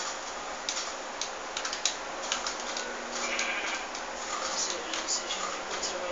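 Sheep bleating in a video game, short bleats and clicky ticking sounds over a steady noisy bed, with people talking throughout.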